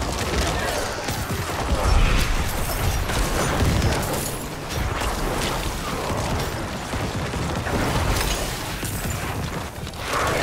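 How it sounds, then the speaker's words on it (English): Necromancer corpse explosions in the video game Diablo IV, loud dense bursts and crashes layered over continuous game noise and combat clutter for the whole stretch. "that's corpse explosion."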